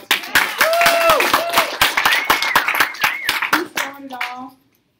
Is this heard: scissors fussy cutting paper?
no